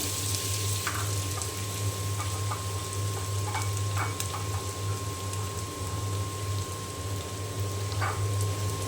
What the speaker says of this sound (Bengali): এখানে আমি তেল দিয়ে দিয়েছি, তেল গরম হয়ে গিয়েছে যে আমি আলু ভাজি করব।